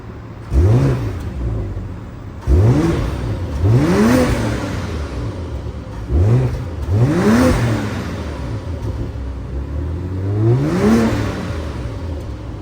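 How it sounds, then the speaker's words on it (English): A 2024 BMW 540i xDrive's turbocharged inline-six engine revs repeatedly, about five rising bursts that climb and fall back, close and fairly loud with no talking. "how this inline 6 turbocharged engine sounds like"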